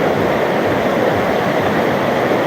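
Rain-swollen floodwater rushes past in a steady, loud, broadband roar, close by and continuous with no voices over it.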